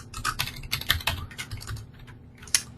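Rapid typing on a computer keyboard, a close run of crisp irregular key clicks with a sharper final tap, without talk.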